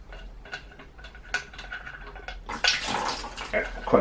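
Fork oil pouring out of a KTM/Husqvarna WP Xplor fork into an oil pan as a part is loosened and removed, a soft trickle early that swells into a louder, steady splashing gush in the second half.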